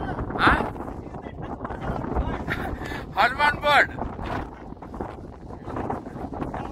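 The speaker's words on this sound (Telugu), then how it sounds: "చూడండి, గాలి విపరీతం" Strong wind on a hilltop trekking trail in Pushkar, near Savitri Mata Temple, buffets the microphone in rough gusts beneath someone talking close by.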